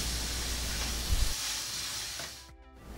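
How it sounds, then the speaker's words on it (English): Garlic and shallots hit a pan of caramelized sugar for braised pig feet and sizzle in a loud, steady hiss that drops away abruptly near the end. "Once it has caramelized to this color, add garlic and shallots."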